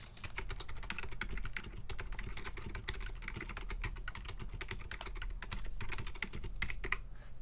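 Fingers tap quickly and steadily on a quiet computer keyboard, producing soft, even clicks that are close and low in volume, with no voices.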